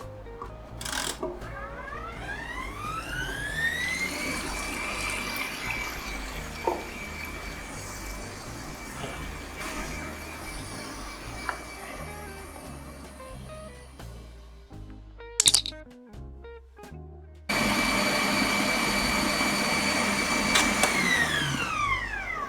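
A KitchenAid stand mixer on speed 10 whipping heavy cream, a loud steady high-pitched motor whine that ramps up, runs continuously, cuts out briefly, then restarts.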